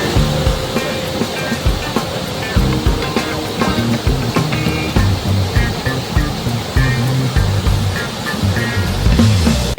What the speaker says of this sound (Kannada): this is A ನಿಪ್ಲಿ falls